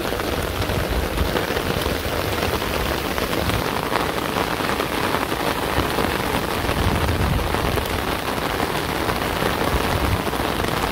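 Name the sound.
rain falling outdoors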